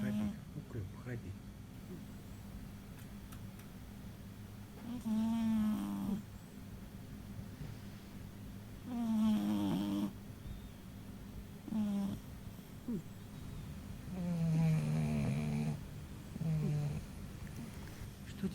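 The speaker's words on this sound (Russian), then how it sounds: "Она не просто красиво спит, она еще красиво храпит." A sleeping cat snores in slow, soft, rasping cycles, each breath faint and close, with quiet gaps between and a low steady hum underneath.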